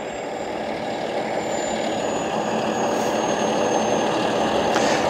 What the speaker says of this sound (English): It's all done through the fork truck with the hydraulics to gently set the boat in the water.